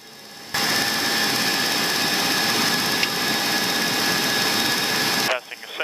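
Jet engines of a Boeing E-3 surveillance aircraft spool up to takeoff power, a loud, steady roar with a high whine heard from inside the plane that cuts off sharply, with brief cockpit talk at the end.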